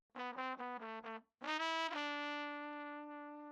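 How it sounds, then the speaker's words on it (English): A short brass run from a vintage soul sample, with a few quick staccato horn stabs followed by a held, bright brass note that slowly fades out. "The last thing here is just this brass little like run"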